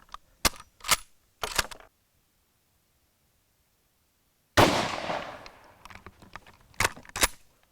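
Sharp rifle shots from a bolt-action firing TulAmmo 7.62x54R, a few loud isolated cracks early, then a silent gap, then a heavy blast with a long decaying echo, followed by more bursts of noise.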